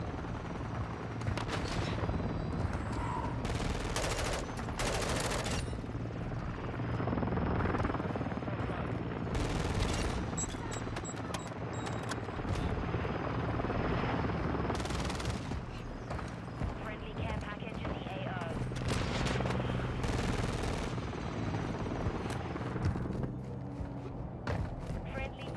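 In Modern Warfare 2 gameplay, a helicopter's rotor drones steadily while bursts of gunfire crackle, fairly faint in the mix, and a player talks over the action.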